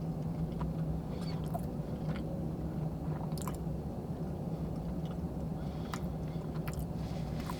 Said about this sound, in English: Sorry about the chewing sounds.